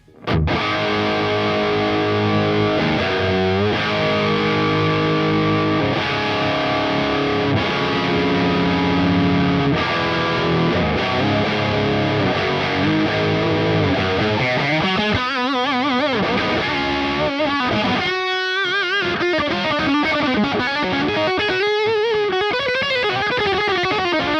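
Heavily distorted electric guitar, a Stratocaster through a Victory V4 Sheriff preamp, plays sustained chords and riffs, loud and saturated throughout, with no voices.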